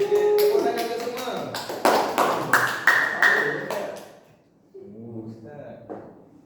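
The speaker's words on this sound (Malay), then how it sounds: "Tepuk tangan ke semua." Children in a classroom clap their hands, giving a short run of sharp close claps mixed with voices, followed by speech.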